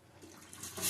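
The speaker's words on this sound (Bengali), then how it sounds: "ডাল ভালো করে এবার জল দিয়ে দেবো।" Water is poured from a tap or vessel into washed raw mung dal in a bowl, a short rushing splash that steadily grows louder over under a second.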